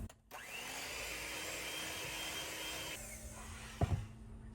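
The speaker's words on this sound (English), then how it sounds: "It says to whisk, so I'm gonna use the mixer again, but it says don't over mix" An electric mixer whirs steadily through pumpkin bread batter in a small RV kitchen, a continuous close motor drone with a slight pitch shift partway and a brief clunk near the end.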